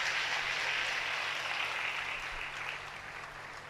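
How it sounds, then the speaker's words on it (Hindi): Faint applause from an audience at a Hindu tantra initiation gathering, a soft steady patter of clapping that gradually fades near the end, with a low hum underneath. "बहुत जोरदार तालियां इनके लिए"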